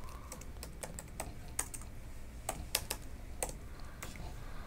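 Steady typing on a computer keyboard while code is entered, a close run of crisp key clicks at an uneven rhythm with a few sharper strokes and no one talking.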